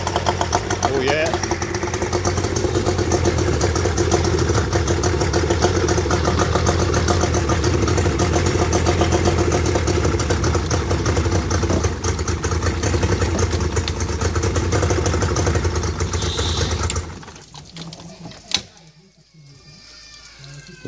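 A running engine, just freed from a blocked pump, drones loud and steady with a rough, vibrating idle for most of the stretch, then drops off sharply near the end with a brief bang before settling quieter.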